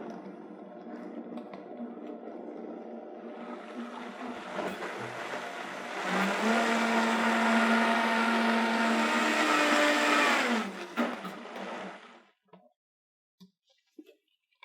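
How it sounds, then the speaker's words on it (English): A blender whirs through vegan chocolate avocado pudding, starting at a lower drone and then rising to a loud, steady high-speed roar for several seconds before cutting off, followed by a few small clicks. "And now we are ready to blend."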